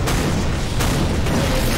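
Bombs exploding in the video game Garry's Mod, dense overlapping booms forming a loud, continuous rumbling barrage with a couple of sharper bursts standing out.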